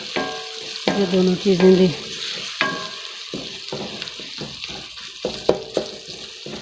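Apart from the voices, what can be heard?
bay leaves frying in a pan for dal chana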